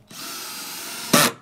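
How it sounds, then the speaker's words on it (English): A power drill bores into a board in one short burst: a steady whirring motor, then a brief louder surge as the bit bites and releases, close and clear with no talk. "And now we drill."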